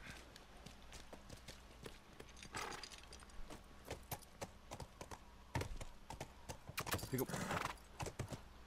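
Hoofbeats of a horse galloping and trotting in The Last of Us Remastered, sharp repeated clip-clop impacts in an irregular run, with game noise and someone talking in stretches.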